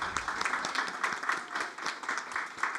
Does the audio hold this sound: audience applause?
yes